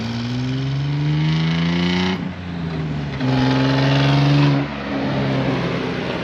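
A stick-shift car revs hard while drifting, the engine climbing in pitch through two loud pulls separated by a brief drop as the driver shifts, close and steady with no voices.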